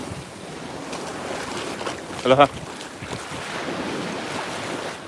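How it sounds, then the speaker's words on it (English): Ocean surf rolls and breaks on Waikiki beach in a steady windy roar, heavy with microphone wind noise, while a person briefly calls out a greeting. "The waves are really breaking right up on the beach here right now."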